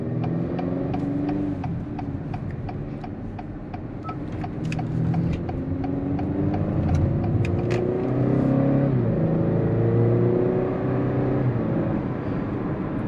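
A 2021 Acura RDX four-cylinder engine with a 10-speed automatic and all-wheel drive accelerating, heard from inside the cabin. The engine note rises and shifts through gears as a steady hum that swells and falls, with no talking.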